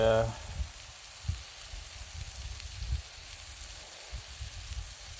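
Sausage sizzles steadily on a Blackstone griddle, a constant close frying hiss with faint scraping touches, following a brief tonal sound at the very start.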